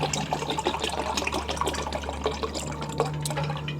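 Cold water poured into a container at a mealtime table, a steady close splashing trickle running throughout under a low constant hum.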